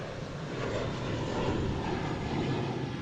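A JetBlue Airbus A320 bound for Vancouver at Boston Logan gives off a continuous, even engine roar at moderate loudness, with no voices.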